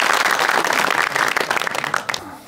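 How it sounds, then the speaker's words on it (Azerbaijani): Applause from a comedy show audience welcoming performers onto the stage, dense steady clapping that fills the room and thins out toward the end. "Alqışlarınızla buyurun."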